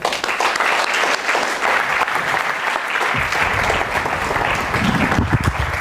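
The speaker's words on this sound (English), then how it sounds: "Ladies and gentlemen, please a round of applause for Roman Yazbeck." An audience at an evening talk event gives a round of applause to a speaker, continuous loud clapping with scattered crowd noise and shuffling near the end.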